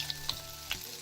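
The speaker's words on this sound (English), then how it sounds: "So I'll keep frying, and we will see how it looks as it gets closer to being done." Steady oil sizzle from bitter gourd frying in a pan, with a few soft clinks of a utensil stirring, close and moderately quiet.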